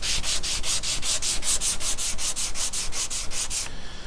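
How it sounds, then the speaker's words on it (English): Steady back-and-forth scratching of sandpaper on the wooden cabinet of a 1941 AWA Fisk Radiola model 276 radio, about fifteen even strokes close up, stopping abruptly near the end. "I've got a lot of sanding ahead of me"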